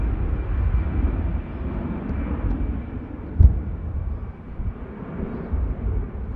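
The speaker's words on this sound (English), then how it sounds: "EasyJet rotates and climbs out from Manchester" EasyJet airliner rotating and climbing out from Manchester Airport, a loud sustained low jet roar that holds steady throughout, with a brief thump partway through and no talk.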